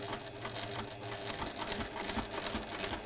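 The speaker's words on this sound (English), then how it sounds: "So just quite close to the edge, sewing this to the background fabrics." A sewing machine stitches close to the edge of an appliqué piece on background fabric, a steady fast whirring rattle up close that runs evenly throughout with no talking.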